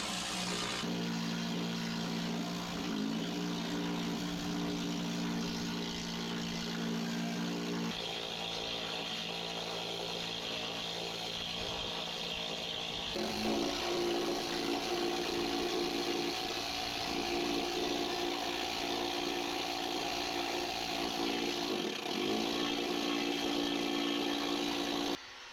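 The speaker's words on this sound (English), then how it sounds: "My dad swears by the trusty Nito needle gun" A Nitto needle gun strips coating from a ship's hull, a loud, continuous pneumatic buzzing and rattling that holds steady for the full stretch with slight shifts in pitch.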